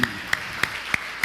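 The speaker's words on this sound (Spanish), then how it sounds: "Recibamos con un fuerte aplauso la palabra de Dios" A Christian church congregation in Mexico claps in an even, steady rhythm: five sharp, evenly spaced claps at about three per second, close and clear with no talking.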